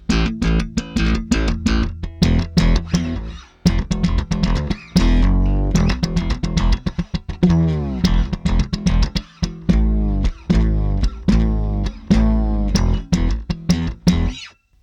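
Alembic 8-string fretless Series II bass played solo, plucked notes and chordal stabs in a steady run with sliding, gliding fretless pitch bends, loud and close throughout.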